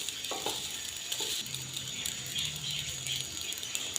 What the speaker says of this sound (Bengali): চাল মোটামুটি পুটপুট যেহেতু শব্দ হচ্ছে, চালটা ভাজা হয়ে গেছে।